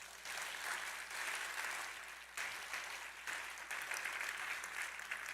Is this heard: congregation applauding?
yes